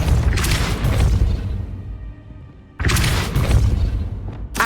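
Depulso force spell blast in the Hogwarts Legacy video game: a loud, booming burst that rolls out, fades to a low rumble, then a second heavy blast hits about midway, with no talking.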